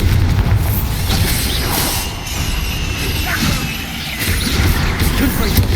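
Loud, dense booming blasts from a Bombarda spell in the Hogwarts Legacy video game, a continuous roar of explosions and crashing debris filling the clip.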